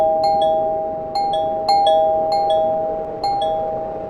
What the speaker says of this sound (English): Then the bell rang from the two-story house.